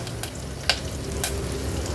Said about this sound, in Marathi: आता ह्याच्यामध्ये आपण अर्धा चमचा राई घालतोय। त्याच्या सोबतीलाच अर्धा चमचा जिरं घातलं आहे फोडणीला, कढीपत्त्याची पानं,